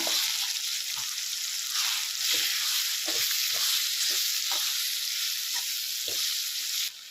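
Thick vatha kulambu paste sizzles loudly and continuously in a pan as roasted spice powder goes in, with a string of dull spoon taps and scrapes cutting through the frying hiss.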